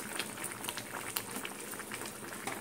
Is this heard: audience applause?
no